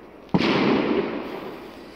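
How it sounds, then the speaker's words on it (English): A single loud firework bang bursts close by, followed by a crackling, rumbling tail that slowly fades out. "Now the fireworks are gonna blow!"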